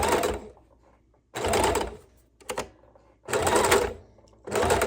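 A sewing machine stitches through a bulky quilted book bag at its multiple seams, running in four loud bursts with short pauses and a brief stutter between them.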